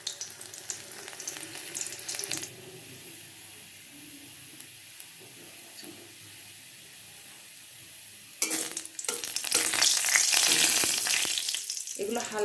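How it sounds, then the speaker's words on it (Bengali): Chopped garlic fries in hot oil in a pan, giving a steady low sizzle that swells into a loud, bright crackle toward the end, with faint clinks of stirring. "এবার আমরা এর মধ্যে রসুনের কুচি দিয়ে দিচ্ছি।"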